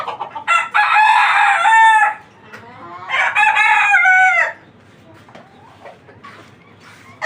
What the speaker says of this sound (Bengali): এখানে যে মুরগিগুলো আছে